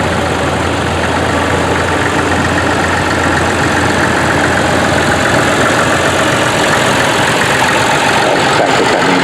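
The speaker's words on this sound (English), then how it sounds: "Tractor coming in" Vintage tractor engine at a Bedfordshire steam rally parade, running loud and close with a steady, even throb that holds unbroken throughout.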